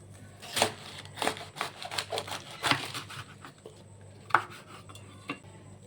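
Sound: cutting cabbage with a knife

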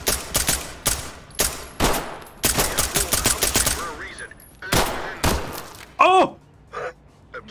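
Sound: gunfire in the video game Ready Or Not

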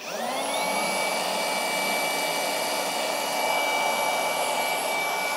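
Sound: two Hercules battery-powered rotary polishers running at full speed

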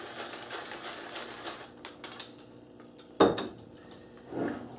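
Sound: mixing mac and cheese with bechamel, salt and black pepper

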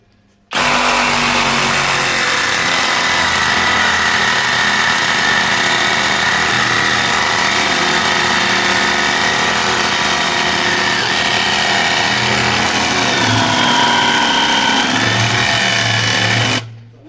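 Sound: LEADER Ultra BL20-22M cordless reciprocating saw, metal blade, cutting hornbeam

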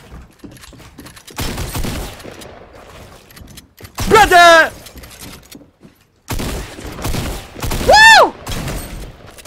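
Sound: gunfire from a shotgun in the video game Fortnite

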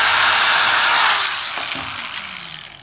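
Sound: power drill driving screw into wood

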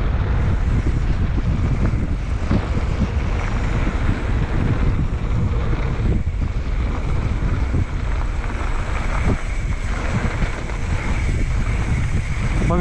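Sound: wind blowing at bike park

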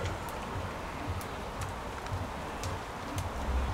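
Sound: wind and rain outdoors

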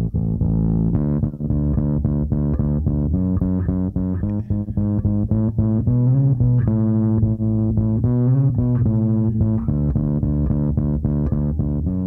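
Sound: Thermionic Culture Vulture distortion plugin on bass

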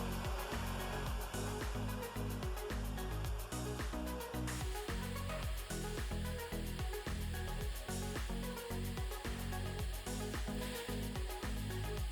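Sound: hot air soldering station blower

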